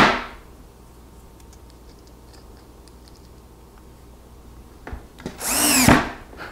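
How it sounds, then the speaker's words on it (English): A power drill drives a screw up from underneath into a poplar-bricked apron of a floating demilune table. After a quiet stretch, one short, loud whirring burst comes close up near the end. "I need to take one of these and put it on here and screw it in from underneath to start the whole process."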